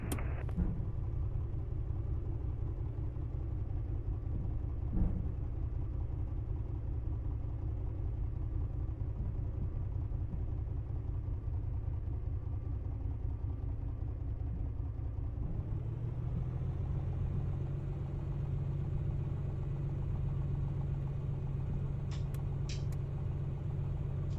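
Steady droning light aircraft engine while taxiing to parking after landing on runway 33 at Page Municipal airport, a continuous low rumble heard from inside the cockpit, its pitch shifting slightly partway through.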